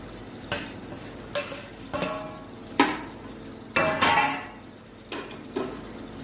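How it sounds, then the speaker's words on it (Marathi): A spoon stirs paneer through gravy in a metal pan, making a run of sharp, separate clinks and scrapes at an uneven pace over a quiet background. "असं व्यवस्थित थोडंसं मिक्स करायचं बघा पनीर मिक्स करून झालेलं आहे"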